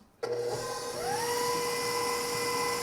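Cream being whisked for homemade butter with a steady, close mechanical whir that starts abruptly and slowly climbs in pitch before holding level, with no talking.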